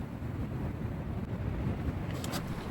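Strong winter wind gusting across an exposed tarp campsite in Iowa's Loess Hills, a steady roaring rush with low buffeting on the microphone throughout and no voices.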